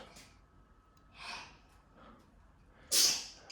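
A single sharp sneeze bursts out near the end, preceded by a couple of soft breaths in an otherwise quiet room.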